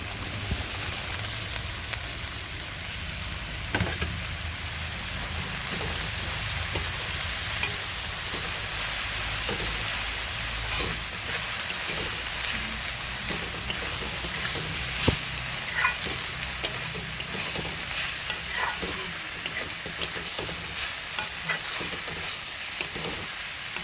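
Chopped leafy greens hiss steadily as they fry in a pan. A spatula scrapes and taps the pan at scattered moments, and no voices are heard.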